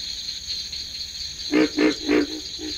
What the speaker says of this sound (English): Here is a breeding chorus of pig frogs